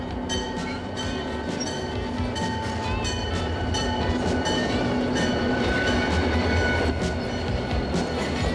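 A freight train rolls past on the rails with a continuous loud rumble, rhythmic clickety-clack of wheels over rail joints, and occasional high wheel squeals.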